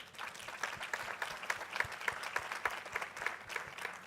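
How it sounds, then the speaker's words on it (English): Conference audience gives a panel session's panelists a steady round of applause, many hands clapping at a moderate distance for the full few seconds, with no talk. "I wanted to thank our panelists, and I think they deserve a big round of applause."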